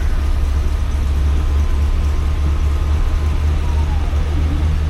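A 1966 Cadillac Eldorado convertible top lowering, a steady low hum with a faint electric motor whine drifting in pitch, continuous and fairly loud with no talking.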